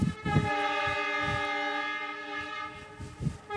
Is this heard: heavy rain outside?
no